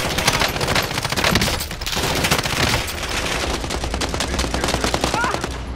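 Heavy, continuous automatic gunfire in Call of Duty: Warzone, loud and close, with rapid overlapping shots sustained throughout and only a brief dip in intensity.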